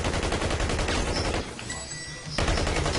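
Gunfire in the Battlefield Heroes video game, rapid bursts of shots with a short lull in the middle, loud and close.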